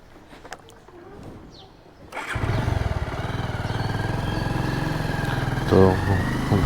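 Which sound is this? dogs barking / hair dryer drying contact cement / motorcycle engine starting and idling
motorcycle engine starting and idling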